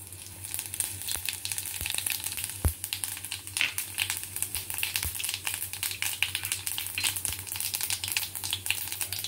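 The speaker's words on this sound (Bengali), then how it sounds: "এবারে কড়াইতে যে রেস্ট অফ দ্য যে তেলটা, যেটা বাকি তেলটা রয়েছে, সেই তেলে আমি প্রথমে আগে ফোড়নটা দেব" Cinnamon and cumin tempering crackling in hot oil in a wok over a low flame, a steady broadband sizzle with scattered sharp pops and spits, close and continuous with no talking.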